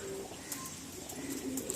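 Pigeons kept for sale coo softly in a short stretch, low murmuring calls sitting under a steady hiss of outdoor background noise, with no one speaking.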